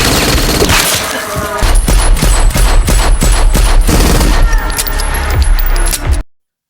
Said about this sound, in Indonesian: tiba-tiba muncullah pacarnya si Samsul yang langsung menghujani mereka dengan peluru panas.